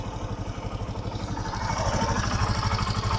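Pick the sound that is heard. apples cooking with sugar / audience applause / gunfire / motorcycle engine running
motorcycle engine running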